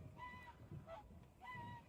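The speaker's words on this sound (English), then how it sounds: "They are like forest geese or what it's called." Geese in the Latvian countryside give a few honking calls, moderately distant and faint, in two short bursts with a brief pause between.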